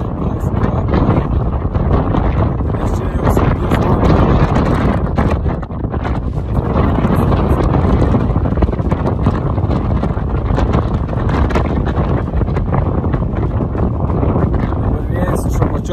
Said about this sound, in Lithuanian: Vėjas iš apačios pučia.